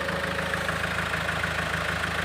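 A 2012 Mahindra XUV500 W8 SUV engine idles steadily nearby with a low, even rumble and a faint rhythmic ticking, with no talk.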